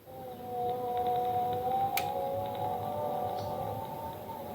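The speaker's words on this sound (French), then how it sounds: "Voici un son de baleine." Long, sustained whale calls with wavering tonal moans, steady and fairly loud against a low rumbling underwater background.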